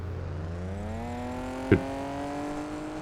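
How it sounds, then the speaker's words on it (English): Cars driving in the video game Farming Simulator 25: a steady engine tone climbs gradually in pitch as it accelerates, with a brief sharp knock midway and a hum that continues alone afterward. "those cars are so loud"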